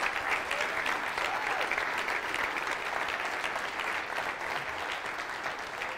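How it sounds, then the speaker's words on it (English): A church congregation applauds volunteers serving at a vacation Bible school, a dense, sustained round of clapping from a large crowd filling the room at steady loudness. "Give them a round of applause."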